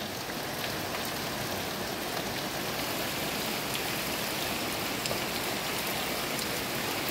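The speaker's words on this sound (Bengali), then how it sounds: "বৃষ্টির এই অপার্থিব সৌন্দর্য উপভোগ করছি।" Steady rain pours down in a village, forming a dense, even hiss that lasts throughout with no breaks and no voices.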